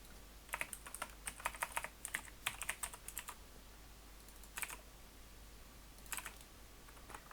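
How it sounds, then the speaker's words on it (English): Quick bursts of typing on a computer keyboard, clusters of crisp keystrokes with short pauses between, close and fairly quiet, with no talking. "As I said, lots of typing today."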